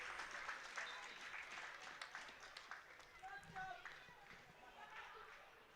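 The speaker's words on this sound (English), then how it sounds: "A nice round of applause for Billy Jones there." Crowd applause at an FA Youth Cup under-18 football match between Fleetwood Town and Tranmere Rovers: a fairly faint, distant round of scattered clapping runs for several seconds, with a commentator talking.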